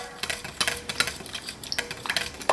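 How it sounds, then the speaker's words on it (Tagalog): A spoon stirs a sweet marinade for soy-style drug eggs to dissolve the sugar, with rapid irregular clinks and scrapes against the pot, close and clattery. "Halo-haloin na natin konti para matunaw lang yung asukal"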